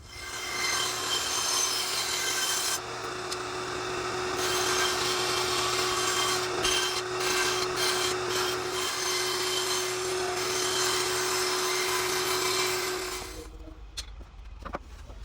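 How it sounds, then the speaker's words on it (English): A bandsaw cuts traced wooden pieces for a homemade Adirondack chair, its blade rasping through the wood in a steady, loud, close drone that drops off near the end. "Now we have the bandsaw and our traced pieces we're going to cut out."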